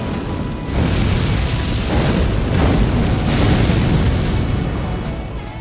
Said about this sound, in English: Messmer's orb, which creates a giant floating orb that moves toward foes and explodes after a few seconds